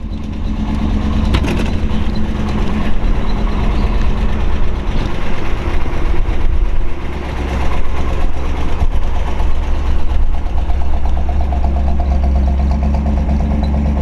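A 1969 Ford Mustang Boss 429 Sportsroof coupe with 20,000 original miles idling nearby, its big-block V8 a deep steady rumble with a slight lope and minor fluctuations throughout.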